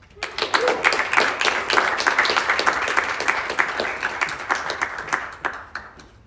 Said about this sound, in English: Let's now give a round of applause to the fourth speaker, Karen Letarte.